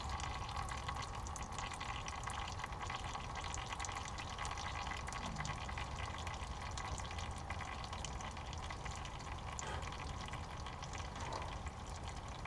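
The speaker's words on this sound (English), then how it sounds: "Just let all the fluid drain out" Power steering fluid draining from a disconnected hose at the pump of a 2003 Ford F150, a continuous faint trickle and drip under steady background hiss, no talking.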